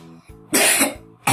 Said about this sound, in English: Sorry, I have a little cough.